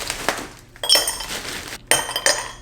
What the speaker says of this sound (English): you just like grab some ice